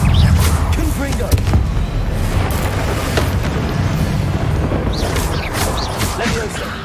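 Loud booming blasts from the Confringo spell in the Hogwarts Legacy game, a dense rumbling burst with repeated impacts over several seconds, mixed with game effects and a voice talking over it.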